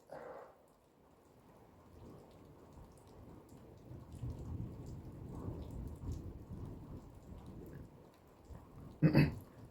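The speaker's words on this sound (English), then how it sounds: "just hearing the sounds of the rain" Steady rain falls through a stormy night with low thunder rumbling underneath, fairly quiet overall, and a brief louder crack or clatter close by near the end; no one speaks.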